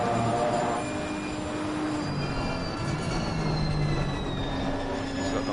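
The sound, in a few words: race car engine and gear changes, Assetto Corsa Competizione video game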